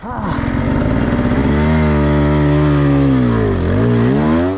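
A dirt bike engine at an off-road race qualifier in the rain, droning close and loud, its revs rising then dipping and rising again in a continuous, strained tone.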